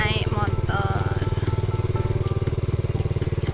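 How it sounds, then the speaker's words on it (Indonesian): A motorbike engine thrums steadily close by with a rapid, even pulse, continuing throughout at a loud, constant level while a voice speaks faintly over it. "Mama Ci soalnya tadi ketinggalan, jadi Mama Ci naik motor"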